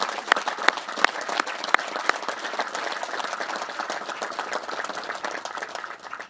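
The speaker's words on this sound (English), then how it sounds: "Let's have a round of applause for these soldiers on the field" Soldiers on the field at an artillery change-of-command ceremony receive outdoor applause: a broad crowd of hands clapping steadily, with a few sharp, close claps standing out early before the sound settles into an even, sustained patter.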